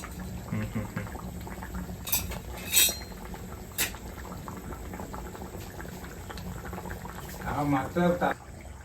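Karimeen (pearl spot fish) mappas curry bubbles steadily in a pot at a quiet, even simmer, with a few sharp clinks of metal utensils against the pot.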